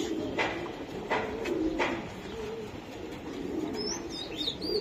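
A male racing pigeon coos in soft repeated phrases close by, with other pigeons murmuring and a flutter of chirps near the end.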